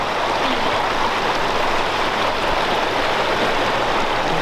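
Steady, loud rush of a mountain stream flowing over rocks at a trail crossing in the Great Smoky Mountains, a continuous broadband wash with no pauses and no voices.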